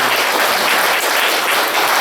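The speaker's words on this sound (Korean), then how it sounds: "이 박수로 하겠습니다." Church congregation at an ordination thanksgiving service bursts into loud, steady applause, a dense roar of many hands clapping without pause for the whole moment.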